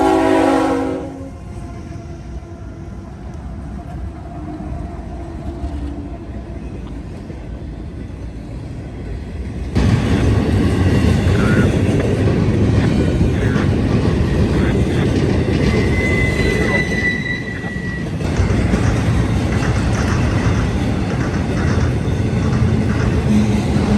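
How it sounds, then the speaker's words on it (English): A freight train passes with the Pennsylvania Railroad Heritage Unit 8102 locomotive running third, on the former Pennsylvania Railroad Sandusky District at Marion, Ohio. A loud, steady rumble of rolling cars builds close by, with a horn sounding briefly partway through. "A special surprise and treat was the Pennsylvania Railroad Heritage Unit 8102 third out."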